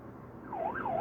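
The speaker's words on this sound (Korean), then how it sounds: "소방차 한 대가 사이렌 소리를 울리며 줄지어선 차량들 사이로 빠르게 지나갑니다" A fire truck's wailing siren sweeps up and down in pitch, fairly close and loud, as it passes quickly between lines of cars over steady traffic rumble.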